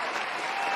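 A clicked applause sound effect bursts out as a brief, dense patter of crowd clapping, loud and steady for under a second.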